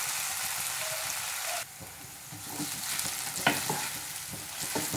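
Onions frying in a pan with garlic and ginger for a tofu and pea masala, stirred with a gentle scraping that overlays a steady soft sizzle, with one brief sharp clink partway through.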